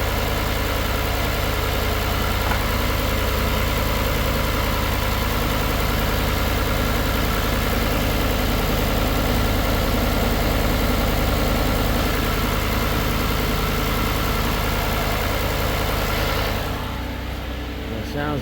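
A 2011 Ford Escape engine idles steadily at close range, a continuous low mechanical hum with slight vibration that holds level for most of the clip before fading and thinning near the end.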